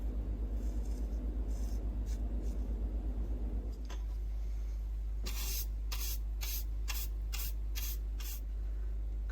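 Spray bottle misting onto a model railroad module while ballasting, a series of about seven short, evenly spaced hissing spritzes over a steady low hum.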